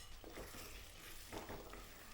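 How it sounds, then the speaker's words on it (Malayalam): Kerala-style fish pickle is stirred in a pan, giving a faint sizzle with soft scraping strokes of a spoon close by, with no talk. "അപ്പം ഞാനൊന്ന് ഇളക്കണം."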